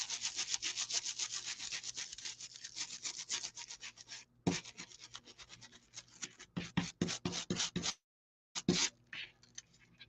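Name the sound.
brush rubbing foil onto a surface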